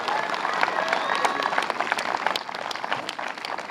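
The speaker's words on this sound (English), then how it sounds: "give them a round of applause for a job well done" A crowd at a Little League parade applauds volunteers, a dense continuous patter of many hands clapping with a faint whistle-like tone mixed in, steady and moderately loud.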